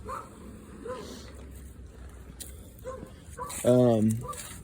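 A dog barks sharply once, close and loud near the end, after quieter outdoor background around a farm tractor, with someone talking earlier.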